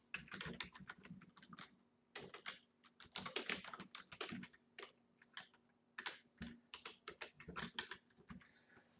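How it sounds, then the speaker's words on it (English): Rapid typing on a computer keyboard, bursts of clustered clicks with short pauses, fairly close and clear. "So let's start typing."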